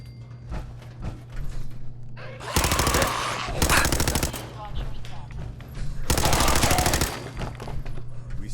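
Gunfire in the video game Fallout: two loud sustained bursts of rapid automatic fire, each lasting about a second, over a steady low hum, with scattered game voices around them.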